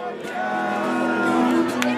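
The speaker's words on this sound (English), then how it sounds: "Like when the crowds cheerfully stagger home" A nighttime Oktoberfest crowd heading home murmurs and calls out in a steady babble, with a faint cheer or whoop rising briefly near the end.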